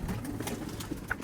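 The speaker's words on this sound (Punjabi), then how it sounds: "ਇਹ ਕਬੂਤਰ ਹੈ, ਇਹ ਸਿਆਲਕੋਟ ਦਾ ਸਭ ਤੋਂ ਮਸ਼ਹੂਰ ਕਬੂਤਰ ਹੈ।" A pigeon from Sialkot gives a brief, soft coo against low background hum, with a couple of short tonal calls over about a second.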